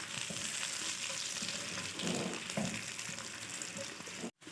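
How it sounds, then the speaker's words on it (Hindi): Finely chopped onions crackle and sizzle steadily in hot oil, a dense frying hiss with occasional louder spits, briefly cutting out near the end. "प्याज डाल रहे हैं बारीक कटी हुई।"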